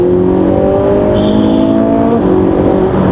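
A Ferrari 458 Italia engine roars at high revs on the overrun, a steady harmonic drone that dips briefly in pitch before holding strong, loud and close.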